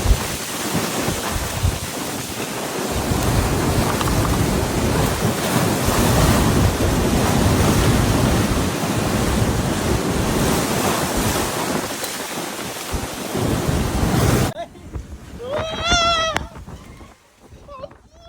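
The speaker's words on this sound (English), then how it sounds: "the island was battered by force 14 gusts and a deluge of rain" Typhoon winds with force 14 gusts and torrential rain lash Taitung, Taiwan, a loud, continuous roaring rush of wind noise and downpour that buffets the microphone, then drops away abruptly near the end to leave quieter ambience with a brief rising tone.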